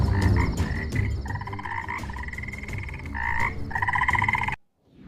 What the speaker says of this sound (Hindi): मेंढक टर्रा रहे हैं